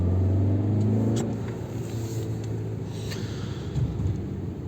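A Honda CR-V on winter tyres roars loudly as it accelerates hard on a snowy road, the revving rumble dropping slightly after the first second and staying steady.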